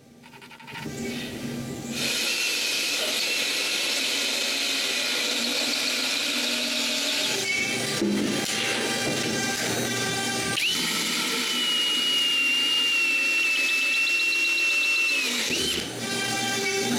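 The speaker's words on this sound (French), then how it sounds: "Je marque l'endroit où je dois faire un trou et je le perce." A power drill bores a hole in plywood with a steady loud motor whine and grinding, broken by brief pauses and a high squeal in the later stretch, heard close with no talk.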